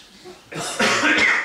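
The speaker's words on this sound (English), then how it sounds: "Cough." A single harsh cough from a nearby person, loud and brief, with a throat-clearing quality and a little room noise around it.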